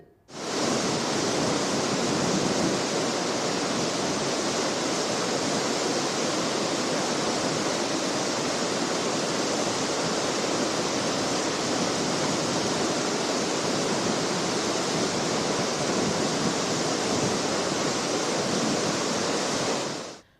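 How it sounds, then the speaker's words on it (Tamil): Floodwater roars over a full dam at Chitheri with a dense, unbroken rushing wash, loud and close, holding constant for about twenty seconds with no voices over it. "சித்தேரி அணை, பர்கூர் ஏரி ஆகியவை முழுவதும் நிரம்பி தண்ணீர் ஆர்ப்பரித்து செல்கிறது"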